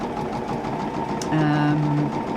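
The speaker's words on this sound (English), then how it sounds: "I'm going to chain piece these little triangles" A domestic sewing machine whirs briefly as small fabric triangles are chain pieced, a short steady mechanical buzz at close range against a low background hum.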